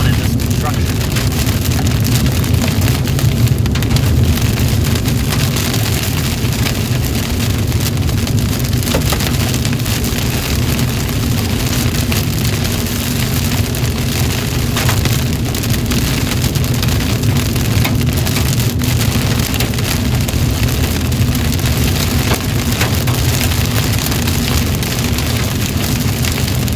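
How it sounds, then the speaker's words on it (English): Hail and rain pelt a car during a storm near Greenville, Texas along I-30, a dense, loud, continuous drumming on the vehicle with a low rumble underneath, steady throughout with no pauses. "So far, at least, the hail's not that big."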